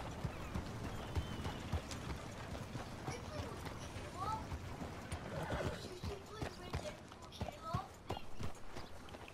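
Video-game horse hooves clip-clop in a steady walking rhythm on a town street near a butcher's, close and distinct, with voices talking over the footfalls.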